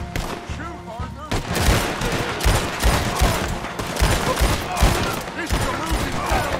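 Dense gunfire rattles through a shootout in Red Dead Redemption 2, rapid loud shots and bursts overlapping continuously, with voices shouting over the battle.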